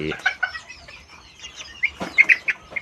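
A pair of three-month-old Saramo gamecock chicks make short, scattered clucks and chirps, close by and fairly clear. The calls come in loose bursts over a quiet background.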